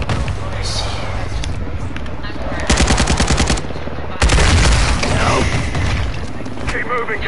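Rapid automatic gunfire rattles in bursts in Call of Duty: Modern Warfare 2 campaign combat, loud close volleys mixed with distant shots and battle noise, with voices talking over the fighting.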